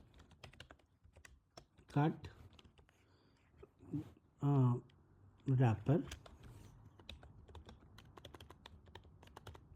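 Fingers tap out a URL on a computer keyboard, a quick run of light clicking keystrokes close by, with soft speech breaking in for a few moments in the middle.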